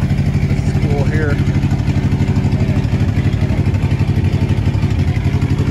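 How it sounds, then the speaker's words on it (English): An old truck with a flathead engine runs close by in a steady, loud, rapid low chugging with a slight clatter, while faint voices sit underneath. "truck is running with the flathead in it"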